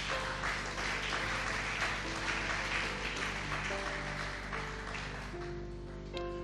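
A church congregation applauding Jesus during worship, a dense wash of clapping with sustained organ or keyboard notes underneath, fading slightly toward the end.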